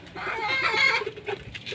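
Pigeons kept by a hobbyist cooing and warbling close by in a steady, throaty stream, the calls rising and falling with a few short pauses and no talk over them.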